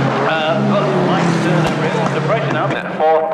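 Sports 2000 race cars from a 1998 pilot race series howl past on a lap, loud engine roar sweeping through under continuous commentary.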